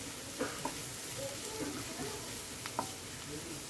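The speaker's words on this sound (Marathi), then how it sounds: "मेथीच्या भाजीला जास्त कांदा भाजायचा नाही हा, थोडा जरा कमीच भाजायचा." Onion frying in a pan for methi bhaji, a steady low sizzle with a few soft stirring scrapes, close and fairly quiet, with no talking.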